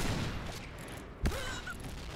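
Gunfire in the shooter game Point Blank, with a K2C rifle: a single sharp shot bursts out near the middle over a steady wash of game ambience, with a short whistling tone trailing after.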